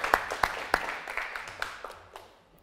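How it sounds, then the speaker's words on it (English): Audience applause for guest speakers at a business and HR Q&A event: a few sharp, scattered claps at first, thinning out into sparse individual claps, moderately close and fairly quiet. "can we have a round of applause for our first guest speaker, please?"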